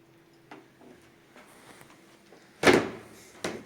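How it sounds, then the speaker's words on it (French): Creaking and knocking inside an abandoned house on two floors: faint creaks and thin tones early on, then a loud hollow knock or creak near the end, followed by a softer one, with no voices. "Ça grince."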